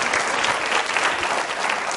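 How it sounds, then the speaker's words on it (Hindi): Steady, dense applause from an audience at a Ramadan quiz show, loud and continuous for the whole stretch with no voices over it. "तालियां बजाइए आप अपने सभी के लिए जोरदार तरीके से"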